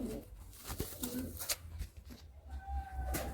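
Laldom and Giribaz pigeons coo in low, repeated murmurs while birds shuffle and flutter nearby, with a few sharper clicks and rustles mixed in.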